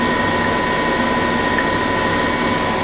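A steady engine held at reduced RPM turns an alternator that charges a lithium battery, a loud constant drone with a fixed whine and an even hum, unchanging and alone with no voices.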